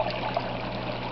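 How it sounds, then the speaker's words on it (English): Water flowing out of an aquaponics grow bed through a siphon drain once it starts, a steady close gurgling trickle that holds at an even level throughout. "once the siphon takes off,"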